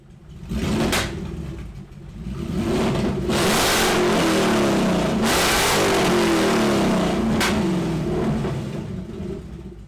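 A BMW 540i V8 with its rear catalytic converters cut off revs hard, rising into a loud, sustained roar with raspy exhaust. It dips once and then holds near full volume before easing off, with no talking.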